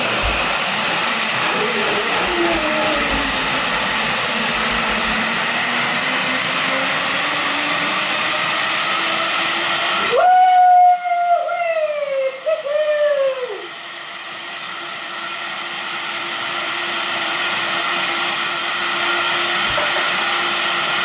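Blender on its smoothie setting, blending a chocolate, spinach and blueberry smoothie, with a loud continuous whirring motor whose pitch rises and falls as it cycles, then stops and trails into a quieter hum.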